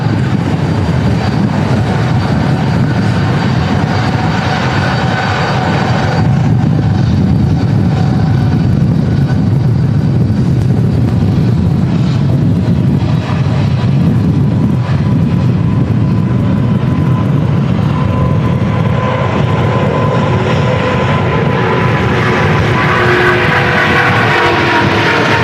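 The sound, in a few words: Airbus A350-900 departing in strong crosswinds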